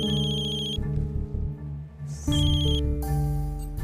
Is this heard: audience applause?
no